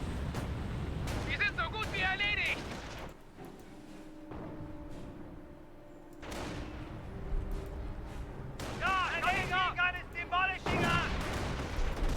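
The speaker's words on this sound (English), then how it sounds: "Both the snipers went down to a single artillery shot." Artillery shells and scattered gunfire crash through a Company of Heroes battle, sharp booming impacts at intervals with lulls between, while a commentator talks over the action.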